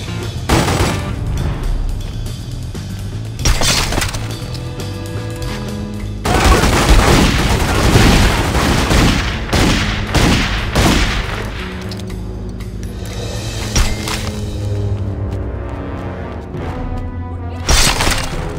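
Gunfire in The Godfather II on PC: repeated gunshots and bursts crack out in irregular clusters, some dense like fusillades, mixed with booms and shattering impacts over a loud game soundtrack.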